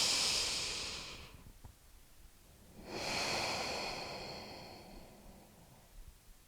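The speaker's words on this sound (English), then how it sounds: "I'm going to ask you to really take 3 powerful breaths. In through your nose." Two long, deep breaths drawn through the nose and released, close and soft, each a broad airy rush with a quiet pause between, heard alone.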